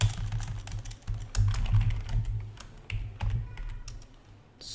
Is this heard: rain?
no